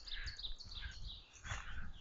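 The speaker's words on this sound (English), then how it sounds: "Birds are singing." Birdsong fills woods at about six on a mid-May spring morning, with bright overlapping chirps and whistled calls from several birds throughout, steady and moderately close, no talking.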